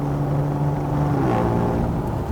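A Ford Explorer ST fitted with a Whoosh downpipe drones loudly from the exhaust at low RPM. The pitch drops as it shifts into seventh gear, heard close and steady with no voices.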